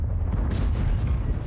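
A single heavy cannon shot from an Object 780 or Lion tank in World of Tanks, one sharp boom over a low rumbling background.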